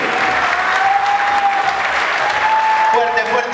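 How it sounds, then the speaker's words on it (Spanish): Loud, close applause from a gathering at an Italian association hall in Loma Hermosa, a dense burst of clapping throughout, with faint voices and a few cheers running through it. "Fuerte el aplauso para la República Argentina"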